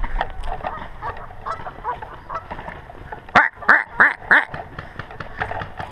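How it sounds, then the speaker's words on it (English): Geese honk in a burst of four or five loud calls near the middle, amid other quieter honks and quacks from a flock nearby, on a paintball field. "Those geese are afraid to take off because they're afraid they're going to get shot with a shotgun."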